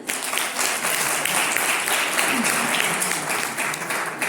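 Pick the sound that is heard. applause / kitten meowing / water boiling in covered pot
applause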